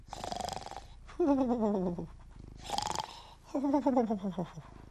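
A voice imitates snoring: two slow cycles, each a breathy inhale followed by a low, rumbling, drawn-out snore, fairly close.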